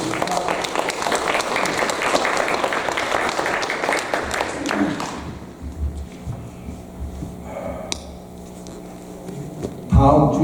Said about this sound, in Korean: 윤 목사님께 우리 감사의 박수 한번 드리겠습니다